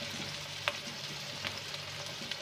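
Beef kofta sizzles faintly in a pan over low heat, a soft steady hiss broken by a few small pops and taps, with no talking.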